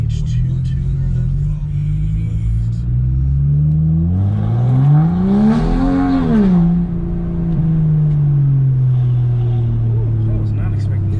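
A stage 2 tuned BMW E92 being driven, its engine droning steadily, then revving up with rising pitch around the middle before settling back to a cruising hum, loud and close from inside the car.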